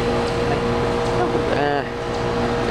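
A 2009 Heil gas pack HVAC unit running outdoors, a steady humming drone with a brief whine partway through, while a person talks over it.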